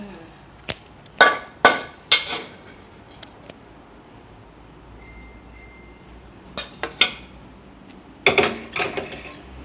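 Fried garlic pork is scooped from a pan onto a plate. A spoon clinks and scrapes against metal and dishware in sharp, separate bursts with quiet gaps between them, close to the microphone.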